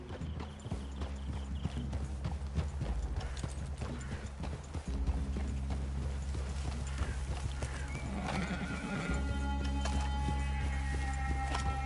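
Steady clip-clop of horse hooves in a PS4 video game over a constant low rumble, with a brief whinny and some faint background noise.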